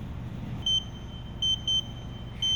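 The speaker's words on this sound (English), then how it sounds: "you will know the firmware update is complete when you hear this double beeping sound" A Shibaura TS5000 robot controller gives short electronic beeps over a steady machine hum as its firmware update finishes, with one beep followed by a quick double beep and then another.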